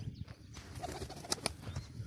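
Newly acquired pigeons coo softly in brief low calls, faint and close, with a couple of sharp clicks or wing sounds mid-way.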